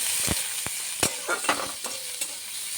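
Chopped onions and green chillies frying with a pinch of salt in a pan, a steady close sizzle broken by several sharp scrapes and clacks of stirring, no voices.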